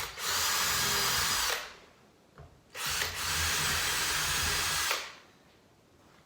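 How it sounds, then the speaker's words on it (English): Power drill boring a small pilot hole in a workshop while building a saw sharpening vise, two loud sustained whirring bursts separated by a short pause, close to the microphone. "I'm going to just put a little pilot hole in here."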